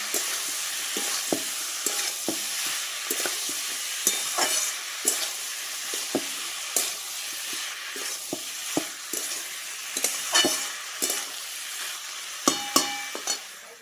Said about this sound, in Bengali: আর আলু পেঁয়াজ সব দিয়ে এখন মাছের তেলটা দিয়ে ভেজে নেব